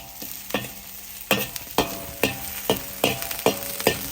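Aromatics for Kung Pao shrimp are stir-fried in a wok over high heat, a steady sizzle broken by regular scraping strokes of a spatula, about two per second, close and clear with no talking.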